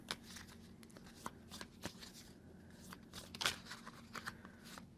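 A deck of cards shuffled by hand during a solo tabletop game session, a quiet run of soft riffling clicks and rustles close by with no talking.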